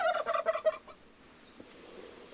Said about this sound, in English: No wonder Beatrix steered clear of turkeys.